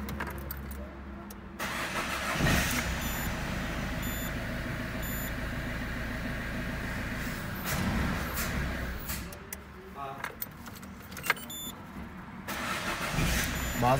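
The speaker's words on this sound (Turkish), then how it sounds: "Şu an aracımızı çalıştırdık." A car engine cranks and catches, then settles into a steady rumbling idle close by, with people talking over it and occasional small clicks.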